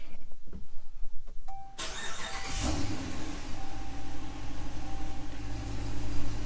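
A car that has been sitting with its check engine light on, fitted with a Pedal Commander, starts up: the starter cranks briefly, then the engine catches with a loud surge and settles into a steady idle, close by and with no talking.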